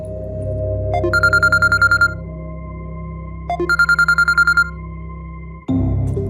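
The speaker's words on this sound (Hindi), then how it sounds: "इतनी रात को किसका फोन है?" A mobile phone rings late at night in a quiet room with a looping electronic ringtone in two trilling bursts over a steady low hum, ending abruptly with a sharp click.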